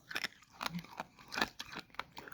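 An old stick of 1986 O-Pee-Chee baseball card pack gum being chewed close up, with several brittle crunching bites in an irregular rhythm, quiet and without talk.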